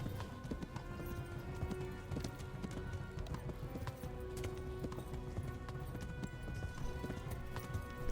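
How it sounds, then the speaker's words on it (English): Horse hooves clip-clop steadily in the video game Kingdom Come Deliverance, a quick, rhythmic run of hoofbeats at moderate distance over a busy game soundscape. "Just getting my horse stamina back."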